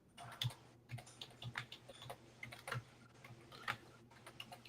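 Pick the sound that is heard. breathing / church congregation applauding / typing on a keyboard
typing on a keyboard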